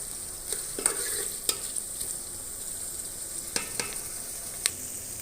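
Chicken fries in a pot with onions, hissing steadily while a spoon stirs and knocks against the metal in sharp, scattered clinks, close up with no talking.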